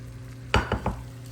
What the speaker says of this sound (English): We are gonna go ahead and stir in that cooked couscous